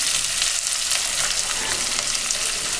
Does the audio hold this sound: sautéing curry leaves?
yes